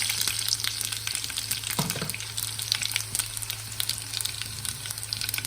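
Mustard seeds, cumin and crushed garlic frying in hot oil for a methi masala dish, a steady close sizzle with small crackles and faint pops under a low background hum.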